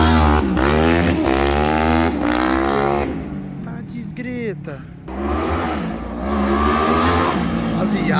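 A Honda CB 300 two-cylinder motorcycle running on methanol with a Twister carburetor revs hard in loud, aggressive bursts on the street, with a brief drop between throttle blips and excited voices talking over it.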